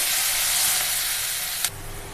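Coarse ginger, garlic and green chilli paste fries lightly in a pan for a spinach paratha filling, giving a steady, close broadband sizzle and hiss with a brief sharper burst near the end and no talking.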